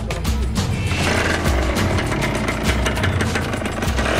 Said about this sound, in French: Sa petite moto n'est pas assez puissante pour monter la colline du port avec tout son chargement.